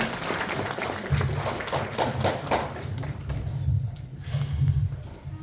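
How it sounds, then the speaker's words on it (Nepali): An audience claps together to welcome a poem reciter, a dense, steady patter of many hands that stays fairly loud throughout and swells slightly near the end. "हामी ताली बजाएर स्वागत गर्छौँ।"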